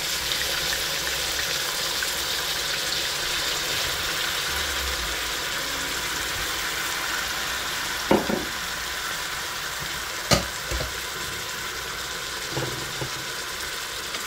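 Chicken apritada sizzles steadily in a pan while being stirred, a continuous broad frying hiss with a few sharp scrapes and clinks of the utensil against the pan.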